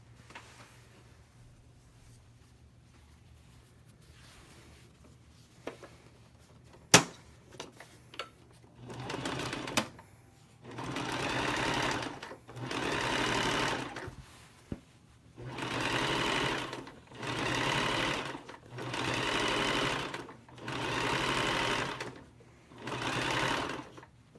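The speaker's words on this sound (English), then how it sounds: "I'm just going to sew a narrow seam here" Sewing machine stitching a narrow seam joining two pieces of fabric, heard as repeated bursts of steady running, about six or seven evenly spaced runs with short pauses between, after a quieter stretch of faint handling clicks.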